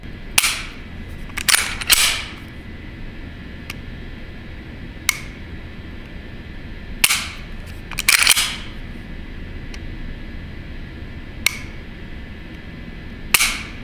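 H&K P2000SK compact pistol with a flat trigger and short reset being dry-fired indoors: sharp, close metallic clicks come in quick pairs and singles, separated by short pauses, over a faint steady hum.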